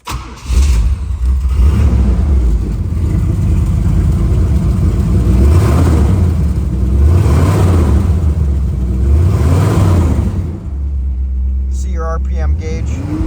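A 1978 Pontiac Trans Am with a 6.6 liter V8 starts up loud and close, then settles into a rumbling idle broken by several rising and falling revs, before dropping back down near the end.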